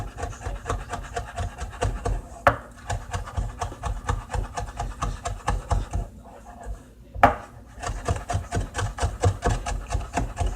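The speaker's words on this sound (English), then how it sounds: "I'm cutting down some lime so I can add it to my mixture" A knife chops lime on a cutting board in a steady, rapid rhythm of close, sharp knocks, with two brief pauses, while preparing salmon cakes.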